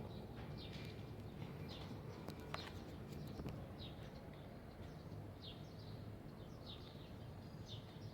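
Birds calling outdoors in Antalya, a series of faint, short chirps repeating through the clip over quiet background noise, with a couple of brief clicks and no talk.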